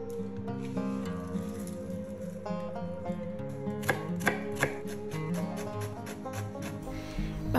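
Mushrooms, garlic and onion chopped with a knife on a cutting board: scattered taps at first, then a quick, steady run of sharp close chops.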